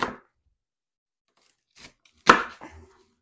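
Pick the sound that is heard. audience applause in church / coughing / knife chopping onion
knife chopping onion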